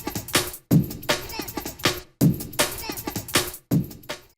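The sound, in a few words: two breakbeats layered at 160 BPM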